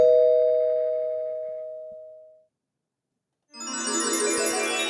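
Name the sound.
doorbell ringing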